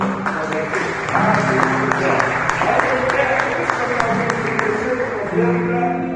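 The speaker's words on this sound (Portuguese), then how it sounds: "Você pode dar uma salva de palmas ao Senhor?" Congregation applauding during a Sunday evening church service, with steady clapping running throughout and sustained musical tones underneath, at moderate loudness.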